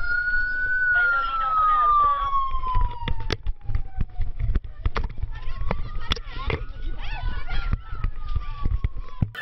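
Police motorcycle siren wailing in long rising and falling sweeps, loud and close, with engine rumble and a voice talking underneath.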